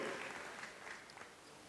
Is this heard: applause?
yes